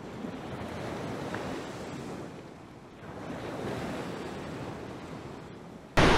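Waves washing in on an Azov Sea beach in Crimea, a steady broad rush of surf mixed with wind buffeting the microphone, continuous and fairly loud, with no voices.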